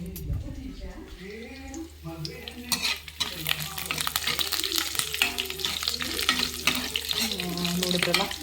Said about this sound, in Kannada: ನೋಡಿದ್ರಲ್ಲ ಯಾವ ರೀತಿ ಫ್ರೈ ಆಗ್ತಾಯಿದೆ ಅಂತ.